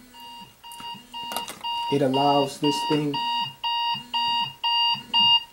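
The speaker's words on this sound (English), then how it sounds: "my alarm going off" Alarm clock beeping in a steady repeating pattern of short electronic tones, loud and close, with someone talking over the first half of the pattern.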